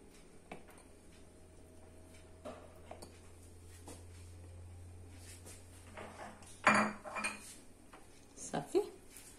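A spoon scrapes red beans from a can into a salad bowl, with scattered metallic clinks and scrapes that build to a few louder knocks against the bowl near the end.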